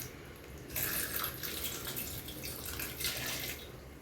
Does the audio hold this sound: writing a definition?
no